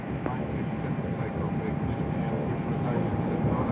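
A Qantas airliner takes off from runway 34 left, heard as a loud, steady broadband jet roar that holds through the whole stretch, with faint radio voices underneath.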